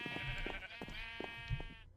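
Sheep in the NeoCraft video game bleat in a series of short nasal calls close by, and the calls stand alone without talk.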